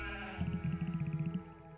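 A sheep on a farm in a video game gives a quick run of about a dozen pulsing bleats, loud and close, over a steady tonal music-like background.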